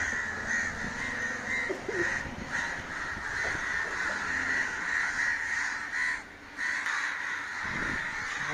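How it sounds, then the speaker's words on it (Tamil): Several crows caw repeatedly over a noisy outdoor background, harsh calls overlapping at a moderate distance. "என்னடா ரொம்ப காக்கா அங்கே சத்தம் போடுதே"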